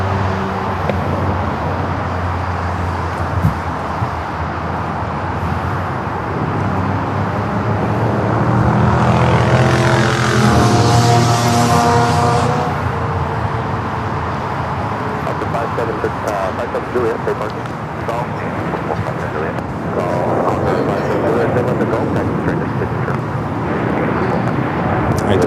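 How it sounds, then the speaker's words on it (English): A Japan Airlines Boeing 787-9 Dreamliner takes off from runway 24 left at LAX, its engine roar swelling into a loud rushing peak midway and then fading into a broad distant rumble, with a voice talking over it throughout. "Now taking off on 24 left, Japan Airlines Flight 69, taking off to Osaka on the 787-9 Dreamliner."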